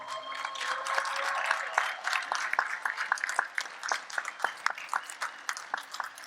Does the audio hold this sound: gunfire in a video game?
no